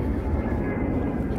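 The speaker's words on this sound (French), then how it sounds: "un avion qui passe" Broad, steady low roar of an airplane overhead, continuous and fairly loud with no other distinct sounds.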